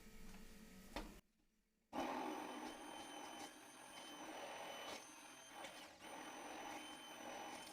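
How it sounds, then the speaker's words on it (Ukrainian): A steady electric motor drones, briefly cutting out before starting up again and running on, a blender mixing a thick spinach pancake batter with flour to remove lumps. "і збиваємо блендером, щоб не було грудочок."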